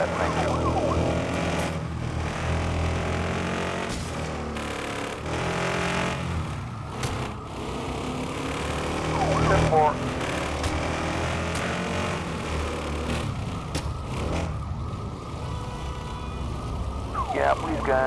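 Police siren in a video game, a loud wailing tone that rises and falls repeatedly and rings out steadily over game sounds for the whole stretch.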